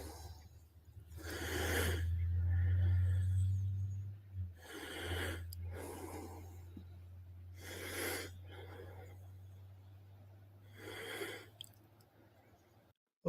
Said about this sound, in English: I don't want to just hear this guy breathing the whole time